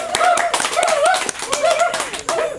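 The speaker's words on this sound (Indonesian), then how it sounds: "berikan tepuk tangan lagi dong" A crowd at an Indonesian talk event on women workers claps loudly and briskly in quick, uneven bursts, with voices whooping and laughing on top of the hand claps.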